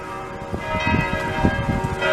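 A peal of church bells in Montreal's Rosemont district rings out with repeated strikes and lingering tones layered over each other, moderately loud and continuous, with no voices.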